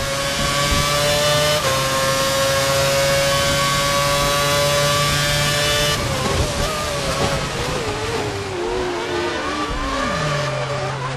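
A Formula 1 car engine in the F1 2011 racing game, a loud, high-pitched sustained whine that holds steady, then shifts and drops in pitch as revs change, with other engine tones overlapping.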